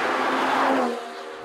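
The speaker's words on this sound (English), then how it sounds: "The way it pulls in fourth gear, it's like most of the performance cars in second." Turbocharged performance car pulling hard in fourth gear, a loud, close engine note with a strong rising harmonic whine that fades off toward the end.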